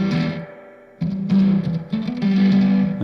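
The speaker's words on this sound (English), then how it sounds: "Little slap echo." Guitar played through a slap echo effect on a Silver Llama or Twin Panda amp plugin from Safari Pedals, short repeats trailing each loud, distorted note in a rhythmic phrase, with a brief gap near the start.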